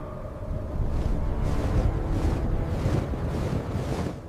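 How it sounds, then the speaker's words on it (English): Strong wind roars steadily at a glacier tunnel construction site, a dense, full buffeting rush with slow surging gusts that swell and ease, loud and close with no voices. "We can't do anything until this wind dies down."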